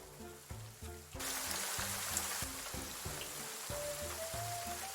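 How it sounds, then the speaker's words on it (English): Heavy rain sound effect plays as a steady, dense wash of rainfall over a repeating low musical backing, continuing loud and unbroken throughout. "Let me go ahead and get the heavy rain sound effect."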